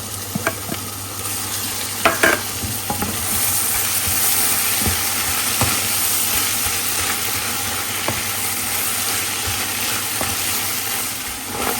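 Tuna fish bhaji fries in a pan with a steady, loud sizzle and occasional clicks of a utensil stirring, close up with no talking.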